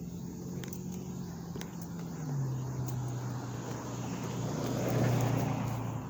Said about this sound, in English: He just drove by.